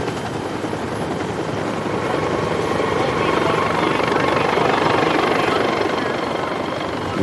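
A Lifeline medical rescue helicopter comes in to land on a golf course, its rotor and engine making a steady, loud whirring drone that builds slightly, with voices talking over it.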